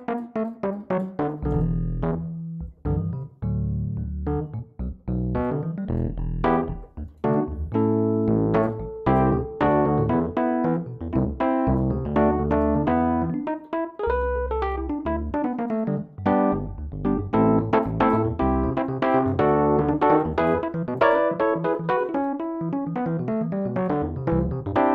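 A bright, bell-like Sparkle Top keyboard patch, modeled on a 1967 classic, plays alone on a Nord, mixing chords with quick melodic runs for a steady stretch.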